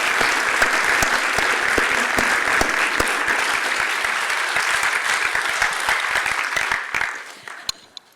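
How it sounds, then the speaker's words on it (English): An audience claps loudly and steadily after a haka, dense sustained applause with sharp individual claps standing out, fading away in the last second to a few scattered claps. "Round of applause really so I could just get myself together."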